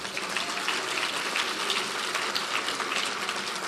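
Sustained applause from a seated audience at an International Women's Day event, dense steady clapping with no gaps, moderately loud and close, without voices on top.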